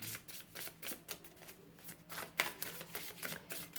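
Tarot cards are shuffled and drawn by hand, giving soft, close, rapid riffling and flicking bursts in a quiet room, with a few sharp snaps.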